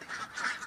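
Laying ducks at feeding time give a brief, faint burst of a few nasal quacks.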